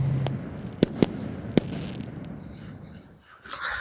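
Fireworks bursting at a July 4 display: a few sharp, loud pops in quick succession early on, followed by fading crackle and a softer hiss near the end.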